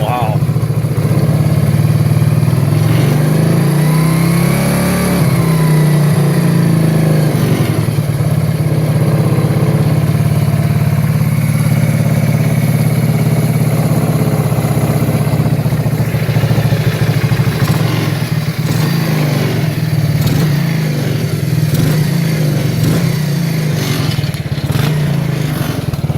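A 1984 Kawasaki Prairie KLT250 ATV, pulled out of a barn, runs loudly and steadily up close, with an uneven idle, revving, clattering and popping back through the carburetor, and voices talking over the engine.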